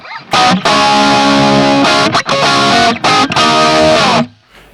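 A heavily distorted electric guitar through an Axe-Fx III amp and cab simulation with a preset plays loud chugging riffs with short stops between phrases, harsh and saturated, no voices.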